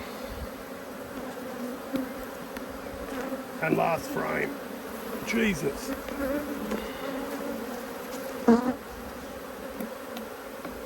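Angry honeybees keep up a constant droning buzz during a hive inspection while someone speaks briefly over them. Single bees flit close with rising, sharper whines now and then.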